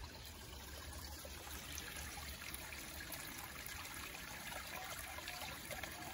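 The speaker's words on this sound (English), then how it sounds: "just listen to the sounds of the water running through the rocks" Creek water along a creek called Arcadia in Australia trickles and burbles over rocks in a soft, continuous stream, faint and steady with no voices.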